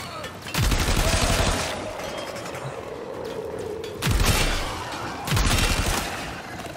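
Weapon fire from the Exceltra in Warframe, played as Caliban: three heavy booming bursts with sharp onsets, one near the start and two close together later, each trailing into a sustained roar over continuous game noise.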